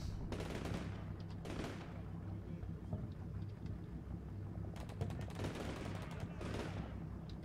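Gunfire rattles in the modern combat video game Combat Mission Shock Force 2, with bursts of automatic fire and rapid distant shots in clusters over a low rumble.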